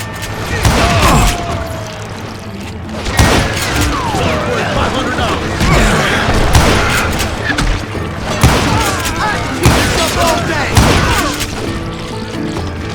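Gunfire in the Western shooter Call of Juarez Gunslinger: repeated loud, close shots and booming blasts in irregular bursts, layered with ricochets and clatter, while voices shout over the shooting.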